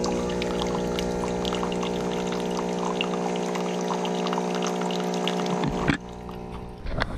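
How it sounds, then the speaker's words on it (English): A Gaggia super automatic espresso machine brewing coffee gives a steady, close pump drone over a pouring trickle. It runs evenly for about six seconds, then cuts off into quieter hiss, with no talking. "Coffee is brewing."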